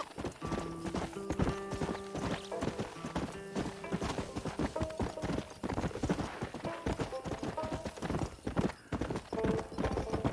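Rapid, continuous clip-clop of horse hooves at a steady trot in Red Dead Redemption, with sustained musical tones layered underneath throughout.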